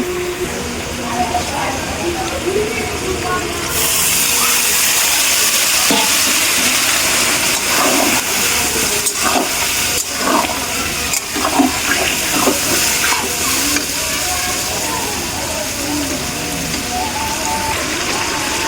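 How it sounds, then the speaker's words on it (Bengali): Water poured into a pan of potatoes cooking for a tomato and potato fish curry sets off a loud, steady rushing hiss that runs unbroken from start to finish, with faint clattering layered in. "এবার আলুটাতে আমি একটু জল অ্যাড করব।"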